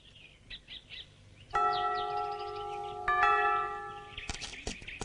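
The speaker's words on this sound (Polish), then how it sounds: "dzwonią na posiłek" A bell rung to call people to a meal strikes twice, each stroke ringing out and slowly decaying, while birds chirp faintly before and after.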